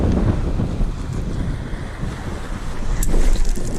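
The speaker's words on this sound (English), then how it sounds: "the water at this beach, as you probably heard" Sea surf washes onto Dungeness beach under strong wind, a loud, continuous rush of waves with heavy wind buffeting the microphone and a brief splash near the end.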